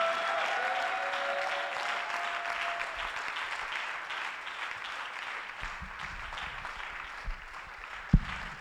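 A church congregation applauds together during a worship service, a steady wash of clapping that fills the room and carries on throughout, with a few heavier thumps near the end.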